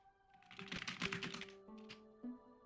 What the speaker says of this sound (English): Mechanical keyboards.